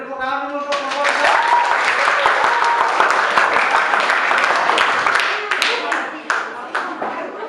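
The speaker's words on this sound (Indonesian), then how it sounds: "beri tepuk tangan dulu untuk kelompok 2" A classroom claps steadily for a student group's presentation in a dense, loud burst of applause that carries on for several seconds, with a voice audible at the very start.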